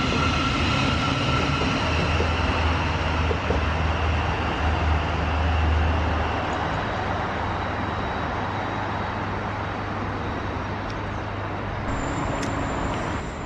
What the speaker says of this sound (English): This is our train going to Gatwick Express, which will be getting off at Blackfriars in London.